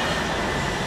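Train rumbling through a train station in Milan, a steady, loud broadband roar with low rolling wheel noise and faint squeal, continuous throughout with no voices.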